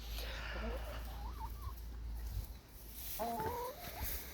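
Hens cluck in short, wavering calls near the microphone, a few scattered clucks early on and another cluster near the end, over a low steady background hum.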